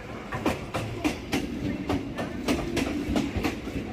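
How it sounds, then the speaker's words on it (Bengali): A Majerhat local train pulls into a station, its wheels beating out a steady clickety-clack rhythm over a broad rumble. The sound is close and continuous, with no talk over it. "মাঝেরহাট লোকাল ঢুকছে।"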